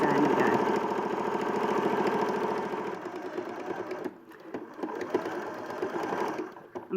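A sewing machine stitches a quarter-inch seam with a short reverse stitch, running in a fast steady mechanical whir close by, pausing briefly before resuming.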